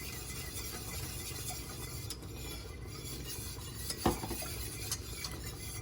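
A milk and cream mixture is poured into a warm pan for mac and cheese and stirred, giving a steady soft bubbling hiss with one clear clink of a utensil against the pan, close and without talk.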